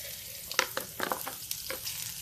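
Cumin seeds sizzle and crackle in hot ghee inside a pressure cooker while daliya and masoor dal khichdi is being prepared, with soft steady frying hiss broken by several sharp pops close by.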